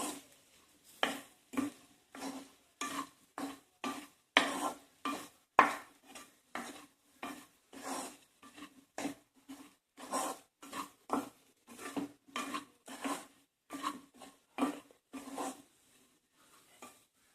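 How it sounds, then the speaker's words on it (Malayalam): A spoon scrapes and clatters in a pan as chili powder is stirred into a South Indian potato fry, about thirty close, crisp strokes in a steady rhythm with no talking. "അതിലേക്ക് നന്നായി മിക്സ് ചെയ്ത് കൊടുക്കുക"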